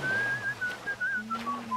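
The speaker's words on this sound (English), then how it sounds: "Besides pretty good whistling." A whistling character in BioShock Remastered whistles a wavering, clear tune in short phrases, fairly quiet and alone with only faint game ambience.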